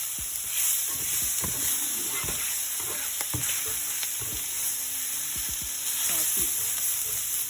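Spaghetti fries in a skillet with a constant soft sizzle, broken by scattered clinks and scrapes of stirring and tossing, close and fairly quiet.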